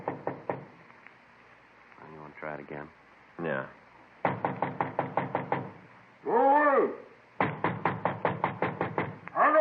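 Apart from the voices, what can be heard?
knocking at an apartment door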